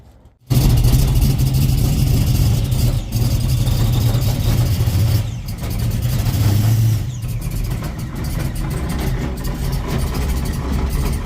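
A 1968 Dodge Charger with an aftermarket block and a Paxton supercharger starts up loud and close, then holds a rough, throbbing idle with small revs and dips, its tone shifting slightly over several seconds, with no voices.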